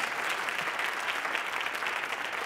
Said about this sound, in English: Yes, give them applause.